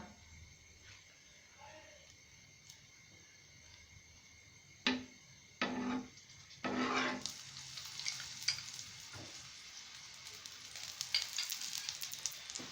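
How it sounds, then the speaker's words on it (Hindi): Aloo paratha frying with a mix of ghee and oil, a few quiet dabs of fat giving way to a steady, rising sizzle that continues to the end, close by. "अब मैं इस पे घी लगाऊंगी। मैंने यहाँ पे घी और ऑयल दोनों मिक्स किया है।"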